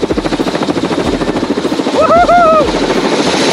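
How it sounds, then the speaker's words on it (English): A helicopter on a Mount Everest tour thuds with loud, rapid rotor beats close by, while people shout and cheer over the engine noise. "get back to the chopper"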